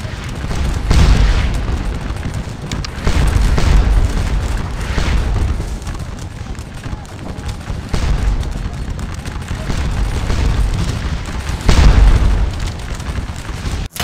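Heavy artillery shelling in Scourge of War: Waterloo, a Napoleonic battle game, with deep booming cannon blasts landing every couple of seconds over a continuous rumbling din of distant fire.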